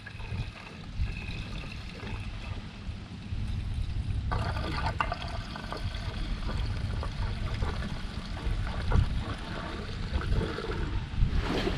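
Liquid pours and trickles steadily into a can, a continuous close gurgling splash that thickens partway through, heard in a workshop setting while working on an 8hp Craftsman wood chipper.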